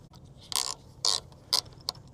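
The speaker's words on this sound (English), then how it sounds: "the ratchet locks it in place" A ratchet on an eBike hitch rack clicks as it locks in place, four sharp, separate clicks spaced about half a second apart, close and fairly quiet against a low background hum.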